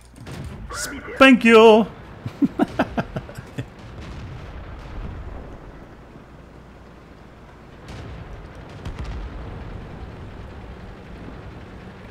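In the World of Tanks video game, a burst of cannon fire and explosions, one heavy blast followed by a quick series of sharp shots, then quieter game ambience with someone talking over it.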